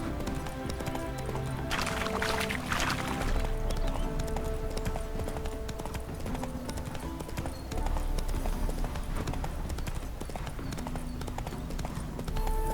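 Horse Roach's hooves clip-clop steadily in The Witcher 3 video game, a rhythmic trotting over a dense bed of game music and ambience, with brief louder noise bursts.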